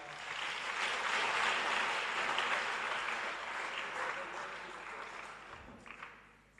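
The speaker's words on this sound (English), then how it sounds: "Can we give them a round of applause" Outdoor crowd applause at a school bicycle handover event attended by a transport official, a steady wash of clapping from a sizable group that swells and then slowly fades over several seconds.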